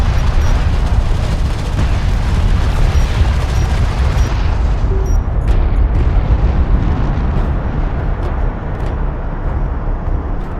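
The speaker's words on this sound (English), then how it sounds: "Enemy railgun firing on friendly." Continuous loud, rumbling booms and blasts from railgun and vehicle fire in the real-time strategy game Homeworld: Deserts of Kharak, forming a dense wall of explosive noise with sharp cracks surfacing in the second half.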